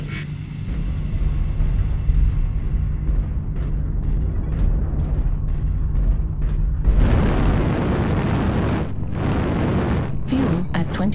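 An artillery strike lands in MechWarrior Online. Heavy rumbling blasts roll on under steady engine noise, with a loud burst of explosions near the end and sharp cracks in the last second.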